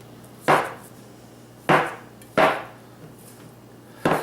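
A bench scraper chops through keto pepperoni supreme pizza biscuit dough into thirds on a counter, four or five sharp thuds spaced about a second apart, close and alone.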